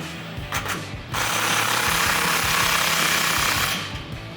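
A 15mm socket on an impact tool tightens an exhaust clamp at the muffler outlet of a 2022-2024 Toyota Tundra's Flowmaster FlowFX dual exhaust, heard as a brief stutter and then a loud, steady mechanical hammering burst lasting a few seconds, close by.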